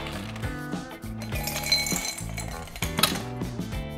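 Ice cubes are loaded into a goblet glass, making repeated bright clinks and knocks up close over background music.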